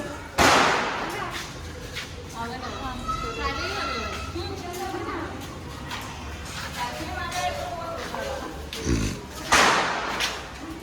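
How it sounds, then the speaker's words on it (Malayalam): Sharp bangs of firecrackers burst at the start and near the end, with children chattering and shouting in between and a busy crowd around them. "പിള്ളേരവിടെ പടക്കം പൊട്ടി"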